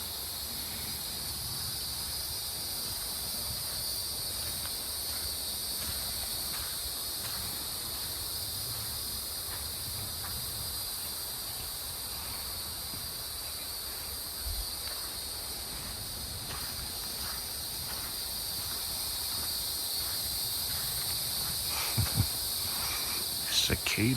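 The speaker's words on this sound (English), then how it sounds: "Cicada season." Cicadas or similar insects drone on at night in a steady, loud, unbroken high buzz that fills the whole stretch, with faint rustles and scattered small knocks underneath.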